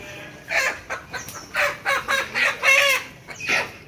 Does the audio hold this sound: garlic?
no